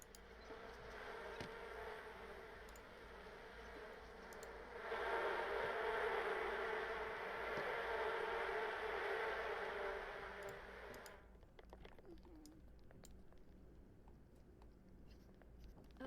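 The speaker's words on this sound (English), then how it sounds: "and the bees are freaking hostile." Hostile bees in The Sims buzz in a continuous insect drone that swells louder midway and then drops back to a quieter hum. The scene is faint and has no talk.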